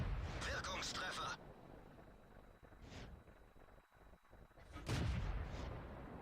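Heavy tank cannon fire booms in World of Tanks battle, with a loud blast at the start and another near the end, each followed by a rumbling decay amid game noise and a voice talking.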